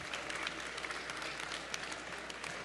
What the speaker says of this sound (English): So let's give everybody a big round of applause.